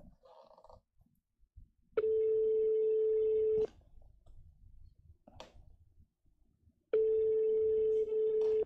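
After a phone call drops, a telephone line sounds two long, steady tones separated by a pause of a few seconds, with faint clicks and background noise between them.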